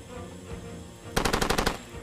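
Machine-gun fire in the shooter Far Cry 2, a rapid burst of about eight loud shots after a quieter stretch of game ambience.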